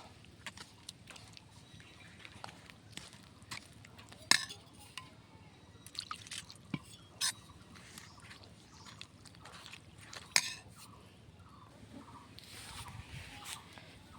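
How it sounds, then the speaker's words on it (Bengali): Rice and wheat flour batter with jaggery is mixed by hand in a bowl, giving soft wet squelches and sloshing with occasional sharper clinks, steady and close throughout without talk. "এখন আমি সুন্দর করে গুলিয়ে নেব"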